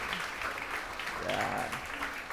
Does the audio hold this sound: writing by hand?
no